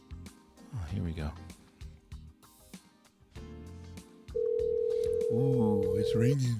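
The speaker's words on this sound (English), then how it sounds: "Ooh, it's ringing." A steady electronic tone rings on and on, with a person talking over the start and a voice humming along near the end.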